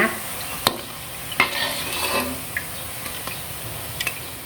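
Taro and pork fritters frying in hot oil, a steady sizzle broken by a few sharp clinks and scraping stirs from a utensil in the pan.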